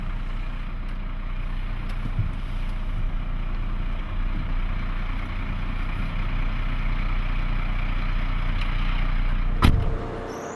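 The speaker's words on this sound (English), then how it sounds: "The operator then engages a power takeoff, which powers a hydraulic pump from the truck engine." A truck engine drives a power takeoff for a hydraulic pump on a CPT testing rig, giving a loud, steady low idle-like drone throughout, with a brief clunk near the end and no talk.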